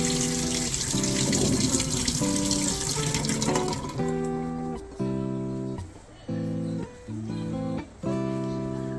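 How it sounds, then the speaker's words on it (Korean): Water gushes from a house tap at first, a loud rushing spray, then gives way to intermittent hums and tonal bursts as flow pulses and stops in short bursts. "네, 물도 틀어 보겠습니다."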